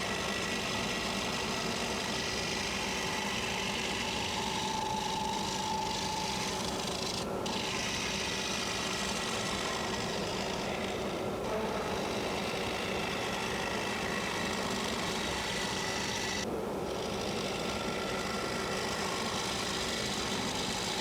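A steady rasping, scraping hum of a wood lathe hollowing an oak bowl continues without pause, with a motor drone underneath and occasional brief dips.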